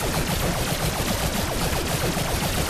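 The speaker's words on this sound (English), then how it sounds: "Oh no, it's an auto fire." An automatic weapon fires nonstop in the Claptastic Voyage co-op shooter game, a dense, loud, unbroken rattle of rapid shots filling the whole short stretch.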